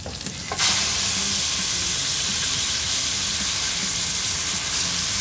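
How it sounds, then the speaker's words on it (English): Meat browning in two scorching-hot pans with rosemary, a loud, steady, close sizzle that surges up after a brief quieter start, then holds a continuous crackling hiss. "I think both pans are browning the meat really nicely."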